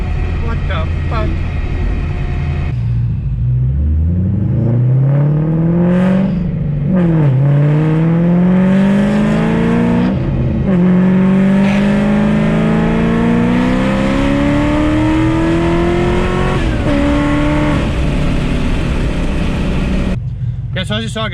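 A Ford GT500 with a Kooks X-pipe exhaust and drag pack launches hard, its engine note climbing steadily through a long, loud, close acceleration pull with brief dips at the gear shifts.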